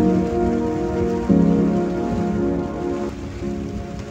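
A heavy rain downpour pours down just after leaving a forest, a steady dense hiss of drops on surfaces that holds throughout at close range with no voices.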